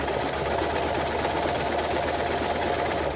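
Sewing machine stitching a buttonhole through fabric, heard as a loud, close, steady rapid whir that holds without pause from start to finish.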